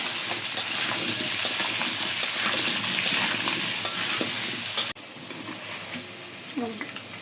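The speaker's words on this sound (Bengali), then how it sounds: "আমি প্রথমে আলুগুলো একটু ভেজে নেব একটু হলুদ দিয়ে দেবো" Malta potatoes with turmeric sizzle and crackle steadily in hot oil, with occasional stirring scrapes, then the frying drops abruptly quieter near the end.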